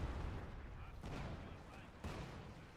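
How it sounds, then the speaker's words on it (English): Artillery fire in the video game Company of Heroes 2, with dull booming impacts at roughly one-second intervals over a continuous low rumble of battle, moderately loud and a little distant. "great artillery spam"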